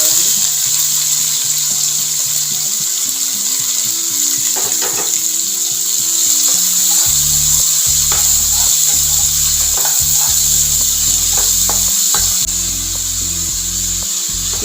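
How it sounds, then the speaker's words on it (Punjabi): Finely chopped onions and asafoetida roasting in a pan to light brown for besan bhurji, with a loud, constant hissing sizzle and intermittent scraping strokes of a spatula, close up with no talking. "ਹੁਣ ਆਪਾਂ ਹਲਕਾ ਬਰਾਊਨ ਤੱਕ ਭੁੰਨਾ ਜੀ"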